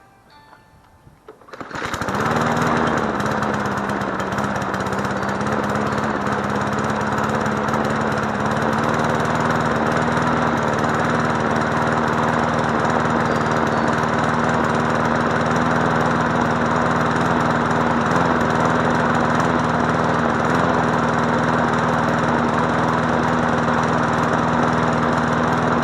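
An MTD Yard Machine push lawn mower engine starts up and settles into a steady, loud running drone, with a slight surge from a throttle needing adjustment, continuing alone without talk.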